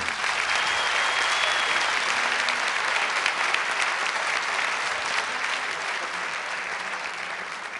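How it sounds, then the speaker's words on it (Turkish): A large audience applauds the Turkish diva Bülent Ersoy at a birthday moment on the PopStar Alaturka stage, a dense, steady wash of clapping that holds loud throughout and eases slightly toward the end. "Bir büyük alkış daha divamıza."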